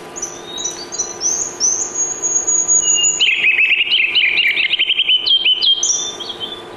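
A loud, high ruby-crowned kinglet song: thin rising notes, then a rapid run of bright, bubbly chattering phrases, close and clear over a quiet background.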